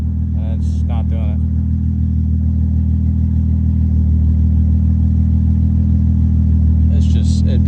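A turbocharged Lexus SC300 engine idles with a steady, loud, even rumble throughout, no clear rev rising out of it, while a voice breaks in briefly at the start and end.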